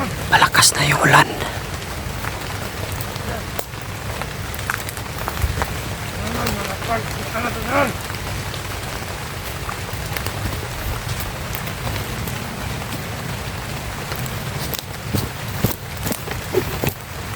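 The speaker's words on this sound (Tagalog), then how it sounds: "Malakas na yung ulan." Heavy rain pours steadily onto surfaces, a dense continuous hiss with scattered drops and splashes throughout, loud and close, with a few brief knocks and movements near the start.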